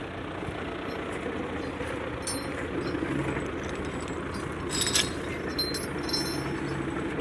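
Two tractors work together to move a heavy load, giving a steady, low diesel rumble throughout with a few brief metallic clanks and no talking.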